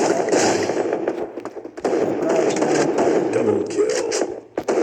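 Rapid sniper rifle shots from the AWM in the mobile battle-royale game Free Fire, sharp loud cracks and thuds bursting in quick succession over dense game noise with faint background voices.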